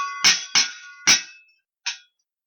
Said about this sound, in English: That sounds like a cans a clanking.